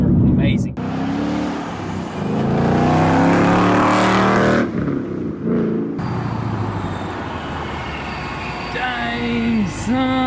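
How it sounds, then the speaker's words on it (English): A supercharged 2017 Ford Mustang GT accelerates hard with a loud engine roar and audible supercharger whine. A short drop follows, then the engine carries on under people talking. "You could definitely hear that supercharger a lot more."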